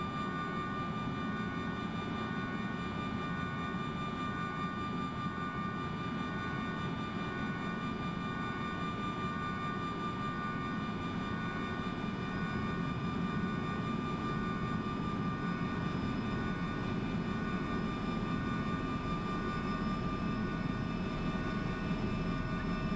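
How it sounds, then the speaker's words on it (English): Engine number 2 of an Embraer E170 jet spins up in Microsoft Flight Simulator 2020, a steady, fairly quiet turbine drone with constant high tonal whines that runs unbroken throughout without talk. "Starting engine number 2."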